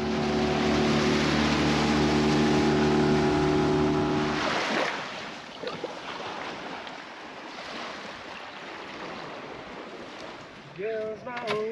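A small aluminium dinghy's motor drones steadily on the sea off a remote beach, then cuts out, leaving water sloshing and splashing against the hull with faint wind.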